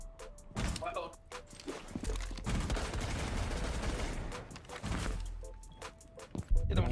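Bursts of gunfire in Rainbow Six Siege, sharp shots and thuds clustered near the start and end with a dense noisy stretch in between, under excited voices commenting.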